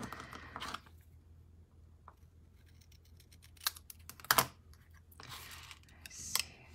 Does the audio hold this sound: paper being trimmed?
yes